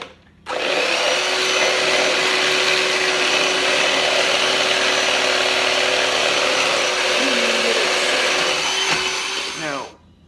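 A loud power tool mixing food whirs steadily for about nine seconds, a constant high-pitched drone that starts and stops abruptly, like a blender or mixer churning.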